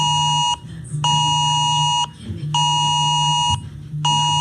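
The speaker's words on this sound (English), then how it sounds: "This is the alarm that they send out to your phone." USA emergency alert alarm sounding from a phone: a loud, piercing two-tone electronic tone in four long bursts with short gaps between them, close and alone.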